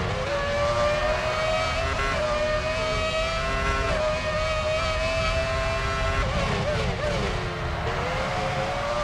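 Formula One cars racing in the F1 Championship Edition game on the Australia circuit, a steady high-pitched engine whine with shifting harmonics, pitch dipping and rising near the end as engines change revs, with faint voice under it.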